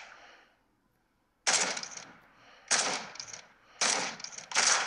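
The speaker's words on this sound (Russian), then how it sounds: "Стреляет где-то сбоку противник." Enemy gunfire in the mobile shooter Forces of Freedom comes in loud, close bursts of rapid automatic fire, three separate volleys separated by brief pauses, with no talk over them.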